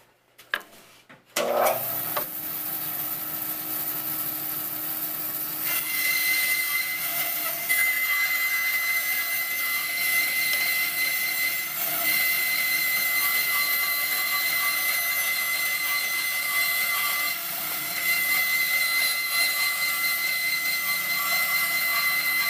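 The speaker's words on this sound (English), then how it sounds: "then we'll cut through on the bandsaw" A bandsaw cuts through a piece of scrap wood for a chisel stand, starting with a brief clatter and then a steady, close, continuous whine and rasp of the blade that holds for about twenty seconds without talk.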